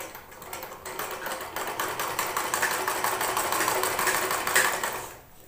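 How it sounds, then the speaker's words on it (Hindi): A sewing machine stitching a latkan tassel for a blouse, suit or kurti, running as a steady, close mechanical whir with a rapid needle rhythm that builds slightly before stopping near the end. "अभी हम गाइस थोड़ी यहाँ से देखिए यहाँ से हम देखिए थोड़ी दूरी से सिलाई करेंगे"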